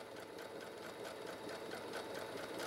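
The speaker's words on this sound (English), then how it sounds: "I usually backstitch that first part, just make the thread really secure. I sew across the bottom" A sewing machine stitching across the bottom of a fabric storage sleeve, a steady quiet mechanical whirr with rapid even needle ticking throughout.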